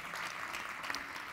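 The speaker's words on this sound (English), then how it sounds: "a last round of applause to all of our panelists and to the CEF" Steady applause from a crowd of people, continuous clapping with no pauses.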